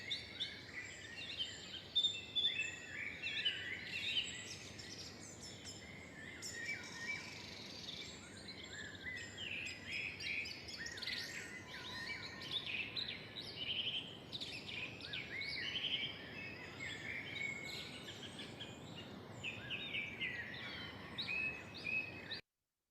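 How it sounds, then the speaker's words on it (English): Dense dawn chorus in a forest at 4 AM at the end of March, many birds singing and chirping at once in a steady overlapping layer, some calls near and bright, others distant, with a faint insect-like hiss beneath and no voices. "we went to BIFoR this year at the end of March at 4 AM to record the dawn chorus"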